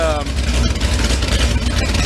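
A car engine with freshly replaced valve springs runs at a steady warm-up idle, a close, continuous mechanical drone.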